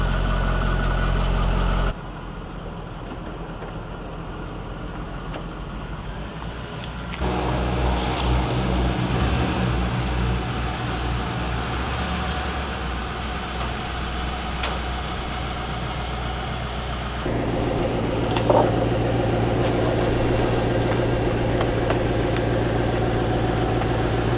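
A car idles steadily on delivery day while being unloaded, its low engine hum constant and moderately close, shifting level a couple of times as the note changes, with no talk heard.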